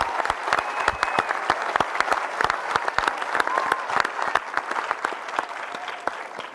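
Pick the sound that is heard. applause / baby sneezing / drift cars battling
applause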